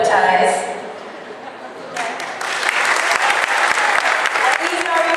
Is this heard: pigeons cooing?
no